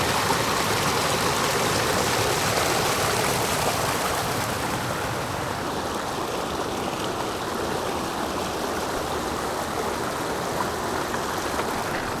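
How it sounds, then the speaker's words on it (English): A river stream flows at a trail crossing on a New Hampshire backpacking route near Flat Mountain Pond, a steady close rushing wash of water that holds constant throughout with no voices. "There's that river crossing."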